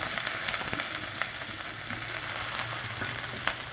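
Chopped onions sizzle and fry in hot oil in a pan for kothu parotta, a dense steady hiss with small crackles and stirring, close and continuous, with no one talking.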